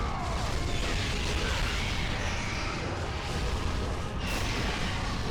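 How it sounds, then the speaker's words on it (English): Dense, continuous rumbling explosions and chaotic combat noise fill the whole stretch from the God of War PS2 game, loud and steady with no talking over it. "there's just explosions and everything all over the place"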